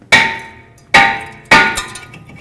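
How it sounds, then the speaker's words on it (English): Three sharp metallic hammer strikes between the lug studs of a stuck front brake rotor on a Chevrolet Equinox, each ringing briefly before the next, loud and close with no talking. "I'm going to try to tap it off of here, hit in between the lug studs to remove it."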